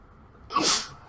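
A single sharp human sneeze, close and fairly loud, rising from near silence and fading quickly.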